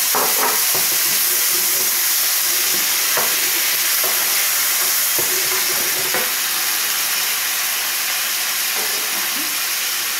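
Pineapple pieces sizzle among veal fillets and onions in a hot frying pan, a steady broadband hiss running throughout with occasional soft stirring clicks, close and fairly loud, no voices.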